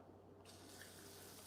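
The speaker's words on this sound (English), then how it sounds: "I'm just going to rinse it in water now." Tap water running into a container to rinse quinoa in a home kitchen, a faint steady hiss of flowing water that brightens as the stream strengthens, close by, with no voices.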